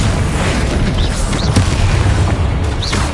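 A Bombardo explosion spell in Hogwarts Legacy booms continuously, loud and dense, with overlapping blasts, crackling debris and a couple of short rising whooshes.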